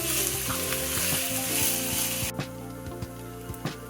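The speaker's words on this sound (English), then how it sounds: "you're going to cook this until your onion is slightly soft and has kind of a nice caramel color to it" Onion fries in a pan with a loud, dense close sizzle that drops off sharply partway through, leaving softer crackles and a few pops, with no talk.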